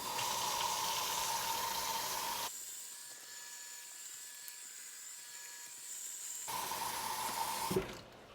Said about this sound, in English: take these over to the sink and fill them with cold water